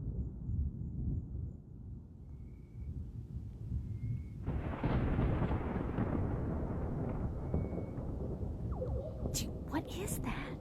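Unusual-sounding thunder over Florida rises partway through into a long, continuous low rumble that rolls on without a clear break, with faint chirps in the background and someone speaking.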